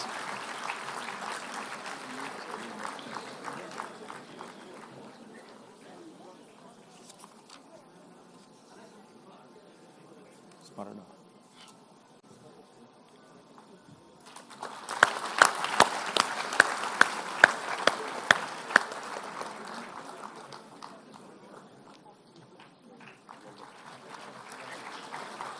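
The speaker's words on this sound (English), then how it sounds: "A loud round of applause" An audience at a university convocation ceremony claps, a faint round early on that fades, then a louder burst of applause with sharp individual claps before dying down, with a voice over a PA between rounds.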